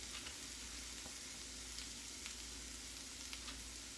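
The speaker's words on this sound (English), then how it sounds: "let me stir this because we don't want this to get dry" Sweet potato tots and cheese steak frying in a pan: a dense, steady sizzle with occasional faint scrapes of stirring, close and continuous, with no talk.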